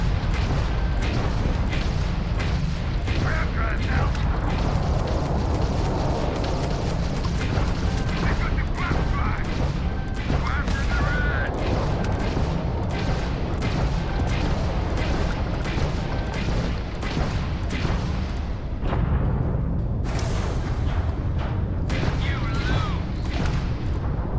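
Ship turrets fire in space combat in the Starfield video game: a dense, continuous barrage of rapid booming shots and blasts that stays loud throughout.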